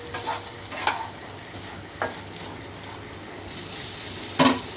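Boiled chickpeas sizzle in a hot pan while a spoon stirs them, with a few clear scrapes and a louder clatter near the end as a lid goes on, close by and without speech.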